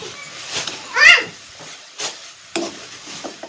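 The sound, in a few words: stirring food in a pan after adding salt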